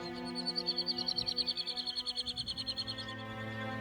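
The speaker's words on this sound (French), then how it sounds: "Un bec, suivi de cris d'appel, voici le calao d'Afrique du Sud." A southern red-billed hornbill gives a rapid series of repeated calls, pulsing rhythmically for a few seconds over a droning background hum.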